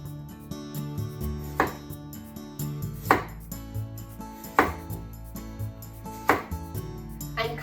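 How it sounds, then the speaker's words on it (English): A knife cuts a carrot into thin slices, four sharp chops spaced about a second and a half apart on a board, close and clear against faint background music, with no talking. "I'm making some decoration using this carrot. Make some thin slices."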